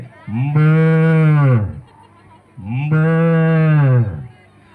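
A person imitates a cow mooing twice, each a long, loud, drawn-out low call with a brief pause between.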